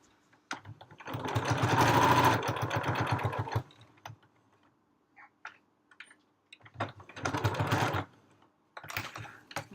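Sewing machine stitching a fabric library bag, running in two long steady bursts of rapid, loud mechanical whirring with a pause between and a short start near the end.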